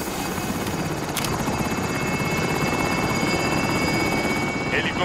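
A helicopter in the Call of Duty: Modern Warfare video game gives off a loud, continuous rotor thrum and whine, holding steady throughout, with a short game alert sound partway through.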